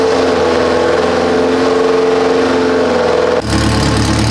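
A Lamborghini Huracán's engine revs steadily and loud up close, then drops abruptly to a lower, rougher idle near the end.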